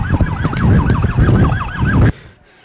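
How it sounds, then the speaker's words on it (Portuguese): Many sirens wailing together at a street protest on an avenue outside a national stadium, rapid warbling siren tones over crowd and traffic noise, loud and close, cutting off abruptly near the end. "Sirenes, muitas sirenes"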